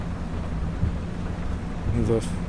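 Rain and thunder in a farming video game, a steady wash of rainfall with a low rumbling thunder roll underneath, a voice speaking over it briefly.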